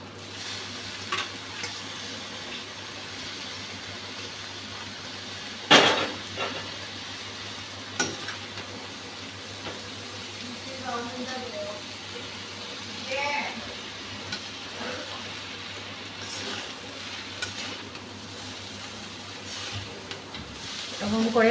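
Eggs frying and being stirred in a pan for egg chow mein with turmeric, a steady sizzle with occasional scraping stirs and a louder clatter partway through.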